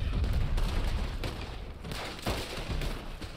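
Red Dead Online pistol gunshots crack among a rumbling battle din, several sharp reports spaced irregularly over a continuous noisy background.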